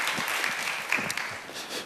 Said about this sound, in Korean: 하나님께 영광의 박수 함께 올려드리겠습니다